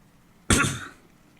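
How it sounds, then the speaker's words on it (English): One sharp, close cough with a hint of throat clearing, a single tickly burst that fades in under half a second against a quiet background. "Just me to get a tickly cough when I'm trying to do a video."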